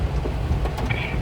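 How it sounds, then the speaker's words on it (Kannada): Heavy rain pours down during a shopping trip in Udupi, a thick, loud, continuous wash of noise with no breaks. "ಮಳೆ ಅಂದರೆ ಜೋರು ಮಳೆ ಇದೆ ಇಲ್ಲಿ"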